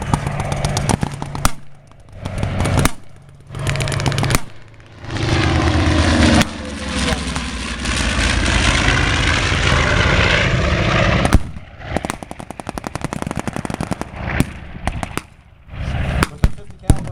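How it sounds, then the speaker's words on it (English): A twin-engine B-25 bomber roars overhead from south to north, its broad propeller engine drone swelling loud for several seconds before fading, with bursts of sharp cracking noise around it at a WWII re-enactment. "Twin engine B-25 called George's Gal coming from south to north."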